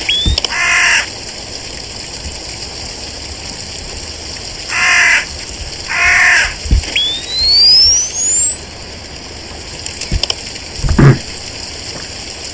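Crows caw in a few short, harsh bursts in the video game Shutter, over steady rain-like hiss. Rising electronic chirp tones sweep upward partway through, and a low thump comes near the end.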